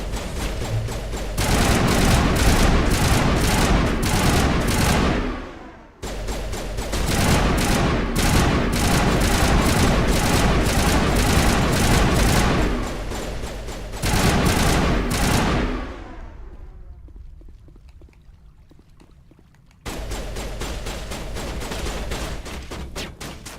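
Dense, rapid gunfire from a firefight in Mass Effect 1 Definitive Edition, loud and sustained in long bursts with a couple of brief pauses and a quieter stretch before the shooting resumes.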